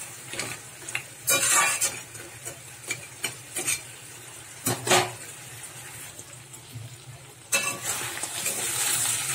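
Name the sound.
stirring fried crabs in curry gravy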